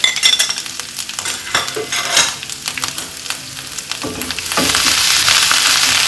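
Garlic, ginger and green chillies sizzle loudly in hot oil for a cabbage masala, with steady frying hiss, stirring scrapes and light utensil clinks, the sizzle swelling louder toward the end.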